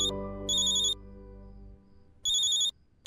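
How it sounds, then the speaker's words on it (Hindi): A phone rings twice in short electronic bursts, with a low hum in between and no talking. "असीम का नाम लिया और असीम का ही फोन आ गया।"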